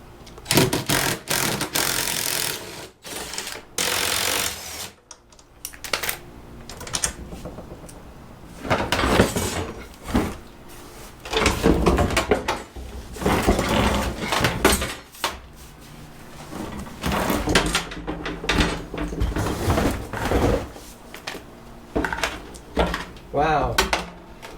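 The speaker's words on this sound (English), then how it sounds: "I'm going to remove the gas tank from the skid plate here" Metallic clanks, knocks and scraping come from work under a 1999-2004 Jeep Grand Cherokee WJ as the gas tank is taken off its skid plate, with 10mm bolts and a 13mm wrench, in irregular bursts with brief gaps and some talk.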